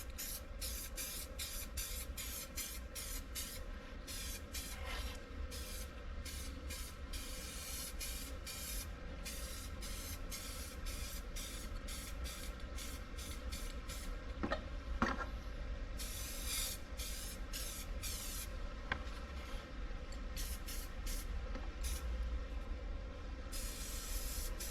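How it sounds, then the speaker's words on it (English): Spray paint hisses out in a long series of short, even bursts as a light coat goes onto old door panels, steady and fairly close over a constant low background hum. "A light coat."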